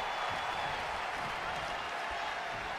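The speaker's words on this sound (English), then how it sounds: "this Kansas City crowd sounds more than ready for this one" An arena crowd in the wrestling video game WWE 2K20, set in Kansas City, roars and applauds in a steady, dense wash of noise with no breaks.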